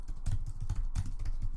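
Rapid, uneven clatter of keys on a computer keyboard, close and steady, with bursts of strokes running throughout and no voices.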